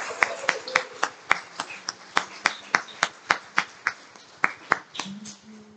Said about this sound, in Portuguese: Pode levantar mais um aplauso bem forte a Ele.